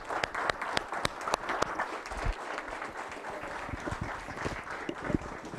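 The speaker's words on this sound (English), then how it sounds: "Let's give you guys a round of applause." An audience claps for several seconds at a Big Brothers Big Sisters mentor event, a dense, steady patter of applause with a few sharp individual claps standing out nearby.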